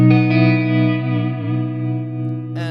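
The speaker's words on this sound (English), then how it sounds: "I've now got a little bit of modulation from the Dragonfly by Bliss" An electric guitar chord rings out through a Bliss Dragonfly modulation pedal, a sustained, gently wavering tone with reverb, loud and alone, before a brief scrape near the end.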